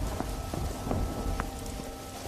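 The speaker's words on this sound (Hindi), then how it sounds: "धीरे धीरे बारिश बढ़ जाती है" Steady rain falls on a surface nearby, a dense continuous patter with scattered louder drops standing out, with no voices.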